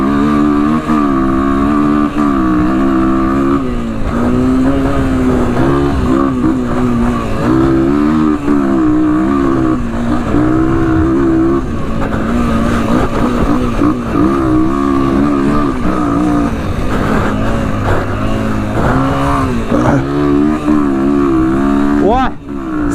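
Honda XR200 dirt bike pulling away from a standing start in first gear, its single-cylinder engine loud and close, rising and falling in pitch through revs, with a voice speaking over parts of it.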